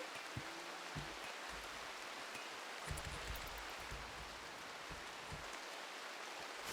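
Steady rain in the RimWorld video game, a dense even hiss of falling drops with faint low thumps underneath, constant and moderately quiet throughout.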